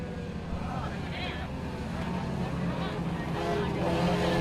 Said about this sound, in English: All the cars are now on the main straight heading down.